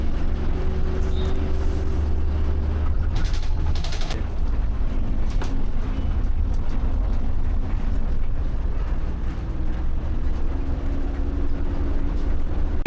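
Inside a new yellow TNSTC bus coming down hairpin bends on the hill road from Kumuli, a steady loud engine drone and road rumble run throughout with wind buffeting, and no one talks.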